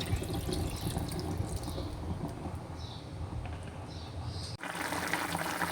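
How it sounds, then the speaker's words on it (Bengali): Broth is poured into a pan of drumstick curry, a soft, steady watery trickle and splash lasting a few seconds, quiet and close, ending with a brief clunk. "কষানো হয়ে গিয়েছে, এখন ঝোল দিয়ে দিচ্ছি।"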